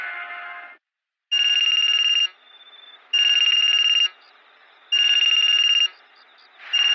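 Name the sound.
telephone ringing at night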